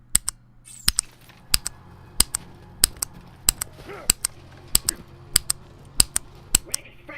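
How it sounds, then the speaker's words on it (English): Cherry MX Brown mechanical key switch pressed and bottomed out again and again, giving about a dozen sharp, evenly spaced clacks roughly every two-thirds of a second over a quiet, low hum. "Now I'm going to bottom out the key."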